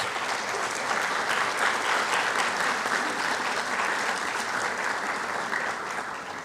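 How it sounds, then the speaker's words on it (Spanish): Audience applause for the speakers at an academic session, dense and steady clapping from a crowd filling the room at an even level before tapering slightly at the end. "se me olvidó invitarles a que les den un aplauso, por favor, a nuestros expositores"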